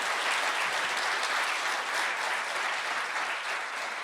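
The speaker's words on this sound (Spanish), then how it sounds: "Yo pensé que alguien iba a darle un aplauso a Dios por eso." A church congregation applauds steadily with dense, even clapping that holds at a constant level throughout, with no voices rising above it.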